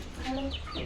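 Chickens cluck briefly and nearby during feeding, a short burst of fowl calls over light background noise.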